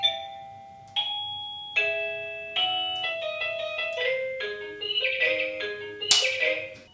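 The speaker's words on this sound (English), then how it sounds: "the ringer is now ringing, and also the doorbell is ringing as well." Receiver chime of a video doorbell plays a series of clear electronic bell tones, with single notes at first, then a quicker melodic run, all close and ringing out with no talk.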